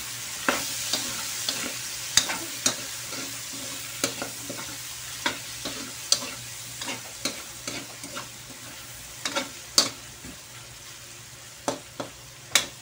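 Pork and small chopped okra stir-fried in a pan, with a continuous sizzle broken by sharp, irregular clacks of a utensil scraping and tossing the ingredients.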